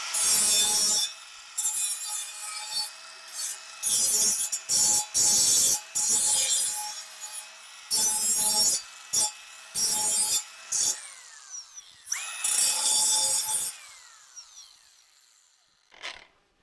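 A grinder deburring the cut edges of a 5-inch exhaust pipe on an OBS Ford, in repeated loud bursts of harsh rasping against metal, its motor whine humming between passes, close and without talk.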